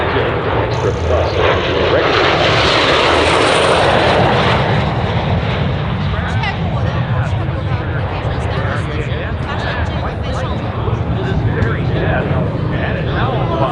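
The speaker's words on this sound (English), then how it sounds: "This is the 1954 RCAF T-33, one of the last ones retired and placed into viable storage in 2004" A 1954 RCAF CT-133 Silver Star (T-33) jet with a Rolls-Royce engine roars past at an airshow, a loud, broad rushing engine noise that peaks early and stays strong and steady throughout.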